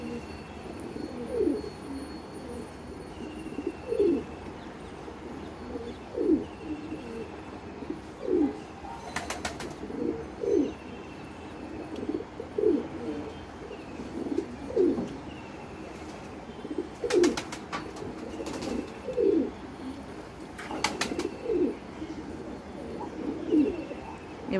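Pet pigeons in a three-storey home loft coo in a steady, repeating murmur, with occasional brief bursts of wing flapping, moderately close and with no talking.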